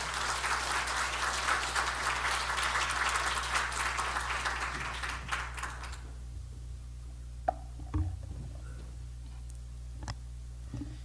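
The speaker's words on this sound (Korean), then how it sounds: "박수로 환영하도록 하겠습니다." Church congregation applauding to welcome a visiting seminary professor at a Palm Sunday afternoon service: loud, dense clapping for about six seconds, then stopping abruptly, leaving a quiet room with a low hum and a few faint knocks.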